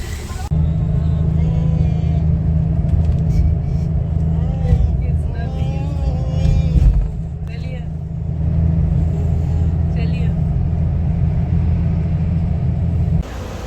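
A travel bus halted beside a roadside hotel at night gives off a loud, constant low engine rumble, with people talking nearby and other vehicles passing in the background.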